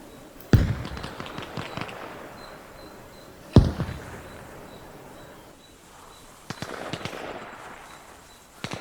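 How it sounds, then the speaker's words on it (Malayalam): Sharp gunshots in the video game Arma Reforger crack out a few at a time, one near the start, one mid-clip and a cluster near the end, with echoing tails and quiet in between. "വെടിശബ്ദങ്ങൾ കേൾക്കുന്ന ലക്ഷ്യ സ്ഥലത്തോട്ട് നമ്മൾ പോവുകയാണ്"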